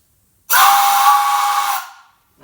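A Crosby three-chime brass NYC subway whistle blown on high-pressure air gives one loud, hissy, breathy blast that lasts about a second and a half before trailing off. It sounds rough and poorly tuned.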